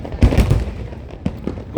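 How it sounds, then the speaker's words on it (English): A few Eid fireworks go off in Abu Dhabi: a cluster of booming bursts, then two or three sharper cracks, fairly loud with no talk. "Wow, beautiful fireworks. Because today is Eid."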